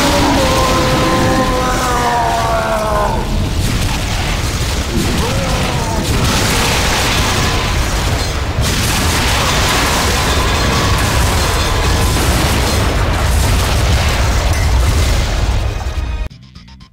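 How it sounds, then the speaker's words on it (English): Boss fight in the video game Metal Arms: Glitch in the System, with loud, dense rocket explosions and booming crashes sounding almost without pause, mixed with mechanical whines and clatter, then cutting out abruptly at the end. "you can basically just shoot him with rockets"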